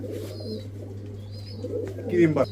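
A pair of cream-bar pigeons coo softly under steady background hum, with people talking nearby and a brief louder burst near the end.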